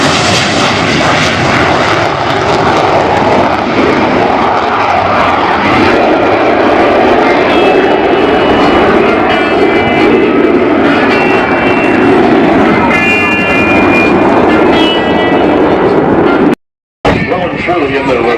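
An English Electric Canberra bomber jet in 2 Squadron markings flies a display at an airshow, and its engine roar stays loud and unbroken throughout. A commentator talks over the noise, and the sound cuts out for a moment near the end.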